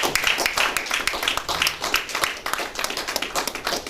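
An audience at a formal service-excellence event claps in a brisk, sustained round of applause, many hands at once, steady and fairly loud for the whole stretch, with no talk on top.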